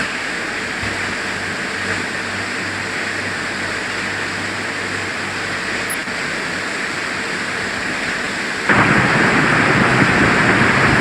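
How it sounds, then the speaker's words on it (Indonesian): Heavy rain pours in a steady, dense hiss, getting noticeably louder near the end. "Hujan merata ya."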